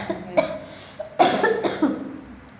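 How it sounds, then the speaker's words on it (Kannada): A person with a bad cough gives several close, sharp coughs in irregular bursts, with a cluster of heavier hacking coughs in the middle. "ಕೆಮ್ಮು ಜಾಸ್ತಿ ಕೆಮ್ಮು"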